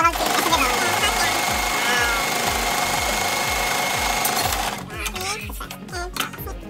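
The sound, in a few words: sewing machine stitching fabric edge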